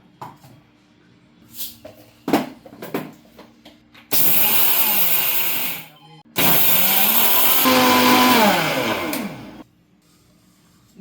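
A mixer grinder grinds rice into fine powder for murukku. It runs in two loud, steady whirring bursts, separated by a short pause, with a few clicks and knocks before it starts.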